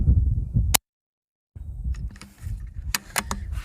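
A .22 gun fires 23 grain cup base slugs outdoors in light wind. A single sharp, close crack rings out, followed by a short silence and then faint rustling and clicking handling noises.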